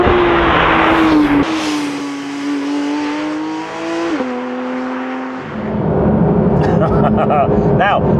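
A Porsche 992.2 GT3 on a winding Welsh road: a loud, close engine note climbs through the revs with sharp gear changes, then eases off before pulling again, with a voice over the engine.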